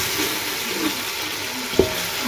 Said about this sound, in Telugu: ఆనియన్స్, కొత్తిమీర అవన్నీ ఇట్లా ఫ్రై కావాలి